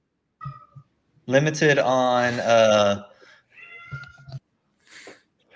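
A cat meows up close in one long, loud, drawn-out cry, with a few shorter chirps and mews before and after it, alone in an otherwise quiet room.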